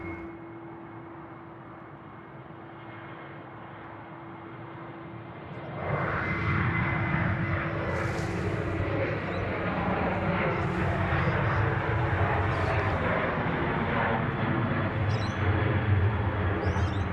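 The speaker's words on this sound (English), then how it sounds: "Qantas 12, the A380-800 coming in from Los Angeles, about to touch down at runway 34 left" A Qantas Airbus A380-800 arriving from Los Angeles touches down on runway 34 left at Sydney Airport, its broad engine roar swelling suddenly after a quieter hum and holding loud and steady to the end.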